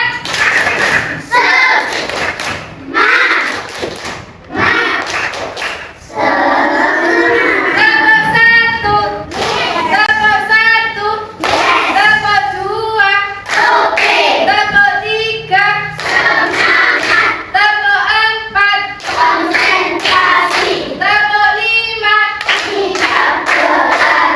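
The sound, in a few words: rhythmic group clapping, spirit clap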